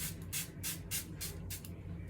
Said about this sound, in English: What if I just spray over here?